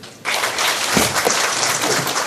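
Sudden loud applause from the audience at a university academic and cultural festival as a Korean-language lecturer is welcomed to the stage, a dense, steady burst of clapping.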